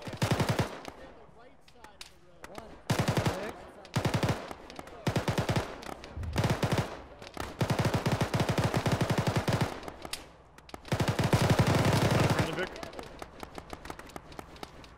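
Repeated bursts of automatic gunfire in a ShackTac military shooter session, as rapid machine-gun strings come in loud, close clusters separated by short pauses. Voices talk in between the bursts.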